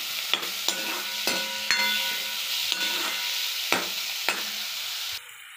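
Chopped tomatoes sizzle and fry in a pan with onions while a spoon stirs them, with several sharp scraping knocks against the pan above a steady sizzle close by.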